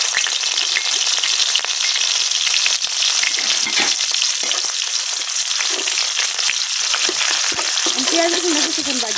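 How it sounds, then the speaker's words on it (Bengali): Chopped onion and garlic drop into hot oil in a pan and sizzle loudly and steadily, with occasional stirring scrapes and crackles throughout. "এখন দিয়ে দিতেছি কাটটা পেঁয়াজ রসুন।"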